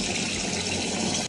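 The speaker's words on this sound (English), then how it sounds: "Now I'm gonna run some hot water on it." Hot water runs from a tap into a sink onto a dirty wig, a steady loud gush of splashing water that cuts off abruptly at the end.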